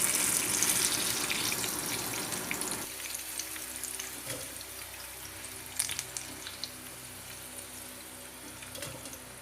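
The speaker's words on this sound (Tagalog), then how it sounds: "we're now going to drain this in a strainer" Fried string beans are poured into a strainer, with a close rush of hot oil draining and sizzling that fades into softer crackles and drips.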